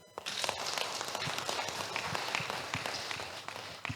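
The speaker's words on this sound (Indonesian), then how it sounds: "tepuk tangan" Crowd applause for people from Jogja at a public gathering, a faint, distant wash of many hands clapping that stays steady throughout.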